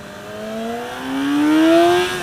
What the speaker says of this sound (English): Give it a nice, relatively full throttle run here